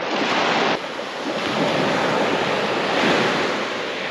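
Sea waves washing at night during boat fishing, a loud continuous roar of surf mixed with wind buffeting the microphone, surging and easing slightly.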